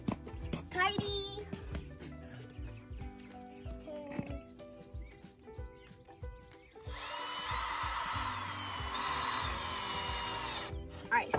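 A power drill drives a screw into a wooden bluebird birdhouse with a steady whir lasting several seconds, after a stretch of an adult and someone talking over tool handling.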